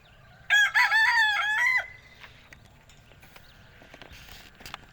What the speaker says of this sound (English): Keep crowing in my video